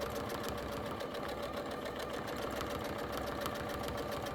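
A sewing machine stitches a couched bag with a steady, fairly quiet mechanical whir and tick that runs unbroken from start to finish.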